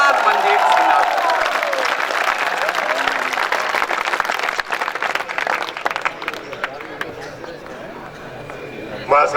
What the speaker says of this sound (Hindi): बस आगे से पीछे तक जोरदार तालियां उठते